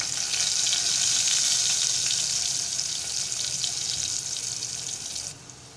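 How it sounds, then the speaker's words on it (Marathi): Onion sautéing in hot oil with asafoetida for a Malvani egg curry, a steady, bright hiss of sizzling that stays loud and even for about five seconds before dropping off abruptly. "पाव चमचा कांदा घालत आहे परतून घेत आहे"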